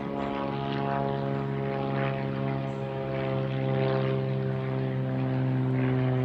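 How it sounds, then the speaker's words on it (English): A propeller airplane drones overhead at steady volume, its engine and propeller hum continuous throughout with no talking, heard outdoors at a wilderness campsite. "this damn airplane"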